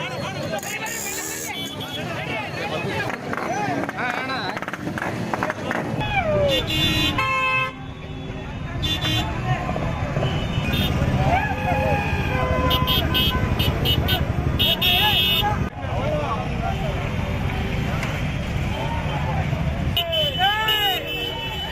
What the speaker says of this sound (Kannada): ನಗರದಾದ್ಯಂತ ರೆಡ್ಡಿ ಅಭಿಮಾನಿಗಳು ನೂರಾರು ಬೈಕ್ಗಳಲ್ಲಿ ಬೃಹತ್ ಬೈಕ್ ರ್ಯಾಲಿಯನ್ನು ನಡೆಸ್ತಾ ಇದ್ದಾರೆ.